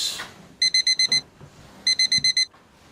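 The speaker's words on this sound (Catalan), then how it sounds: "Pau, per què no s'obre el despertador?" An alarm clock rings in two bursts of rapid, piercing electronic beeps, each a quick run of about five tones, loud and close, with a short pause between the bursts.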